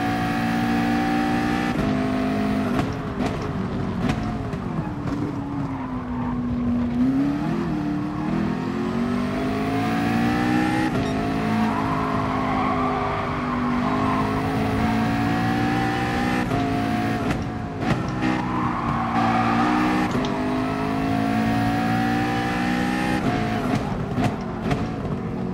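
Race car engine in Gran Turismo Sport during a manufacturer series online race, a loud continuous engine note rising and falling through gear changes and braking, with no talk over it.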